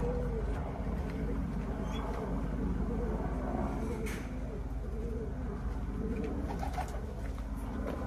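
Soft, repeated cooing of racing pigeons over a steady low background hum, with occasional faint bird calls nearby.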